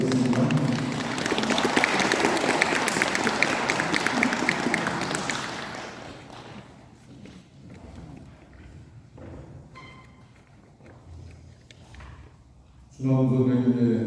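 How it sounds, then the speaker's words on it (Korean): An audience applauds warmly at a commemorative event in Korea, a broad wash of clapping that fills the opening six seconds and then fades, leaving quiet room noise before a louder burst near the end. "힘찬 박수 부탁드리겠습니다."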